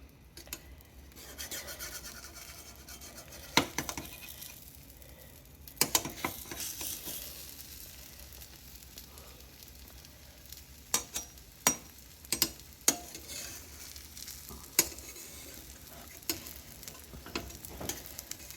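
A masala omelette cooks in a pan with a steady low sizzle throughout, broken by occasional sharp clicks and light scraping taps from a utensil.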